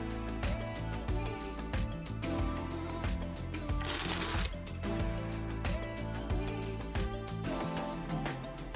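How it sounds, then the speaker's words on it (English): TCC Triumph playing cards being riffled and fanned straight from a new deck, a steady papery flutter with repeated soft snaps and one brighter rush of cards midway, close and clear with music underneath. "The cards fan nicely right out of the box."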